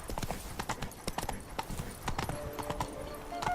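Roach the horse gallops in The Witcher 3, a rapid, close rhythmic clip-clop of hooves running continuously from start to finish.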